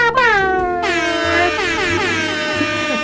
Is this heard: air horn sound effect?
yes